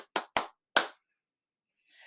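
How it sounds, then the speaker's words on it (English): Three sharp hand claps in a quick rhythm ring out in a classroom, then a short pause, followed by a fourth clap and a faint trailing sound near the end. "I'm going to clap something, clap it right back."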